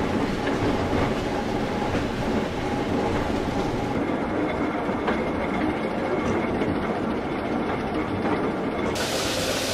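A train climbing a mountain railway rumbles steadily along the rails with a continuous rolling clatter and low drone, close and loud throughout, with no voices.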